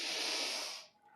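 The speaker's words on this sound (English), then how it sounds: "And exhale as you come in." A single close, breathy exhale sounds during a Pilates reformer exercise, a brief airy rush that fades out within about a second.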